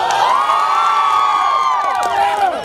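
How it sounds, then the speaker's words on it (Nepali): A loud audience at a film event cheers, whoops and shouts in rising, wavering voices, with faint clapping underneath, continuous throughout. "एकचोटि जोरदार ताली बजाउनु पर्यो"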